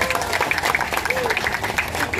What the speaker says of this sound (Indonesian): Tepuk tangan buat teman-teman yang nggak terpilihnya